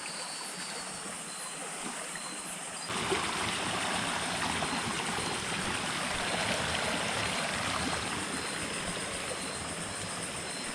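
A strong farm stream rushes steadily and fairly loudly, a continuous turbulent current that grows stronger after the first few seconds and holds without pause.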